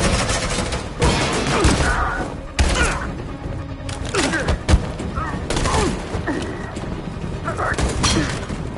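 Gunfire rings out in a Detroit-set video game: repeated heavy shots and bursts crack out amid thuds and impacts. Characters shout during the firefight.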